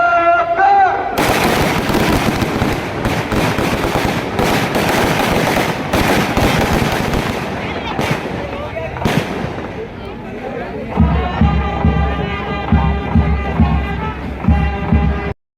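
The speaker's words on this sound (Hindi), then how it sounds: "अब यहाँ पे वही फायर" Ceremonial gunfire rounds at an Independence Day police parade on a police ground in Bilaspur: loud, dense volleys of shots echo for about ten seconds amid crowd noise and voices, then a steadier, tonal backdrop follows.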